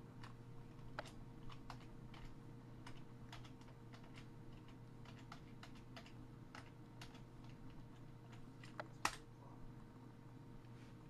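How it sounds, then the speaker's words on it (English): Quiet keystrokes on a computer keyboard enter a password at the login screen of a Dell Optiplex 960, as a steady patter of soft clicks over a low electrical hum, ending with one sharper key press. "I'm going to type in my password."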